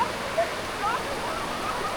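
Steady rushing water pours continuously at Tham Phra waterfall in Bueng Kan, Thailand, not flowing strongly, a broad even roar like a small waterfall or fast stream, with no clear talking over it.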